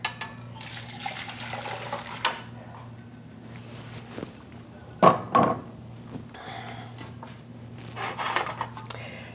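Six cups of orange marmalade mixture made with Pomona's pectin are poured back into a pot, a close sloshing liquid pour that clatters against the pot in the middle, with lighter splashes and handling before and after.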